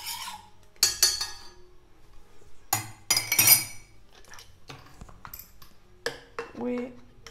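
A spoon stirs a homemade hair spray mixture in a glass, giving bright, irregular clinks and taps against the glass, with quieter rubbing between strikes.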